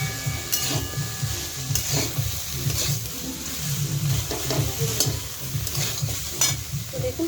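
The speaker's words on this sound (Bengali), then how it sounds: "দিয়ে দেবো আগে থেকে ভেজে রাখা চিংড়িগুলোকে। খুব ভালোভাবে মিশিয়ে নেব।" Pre-fried prawns tossed with bottle gourd greens in a pan: a continuous close sizzle with regular scraping stirs of the spatula, unbroken by speech.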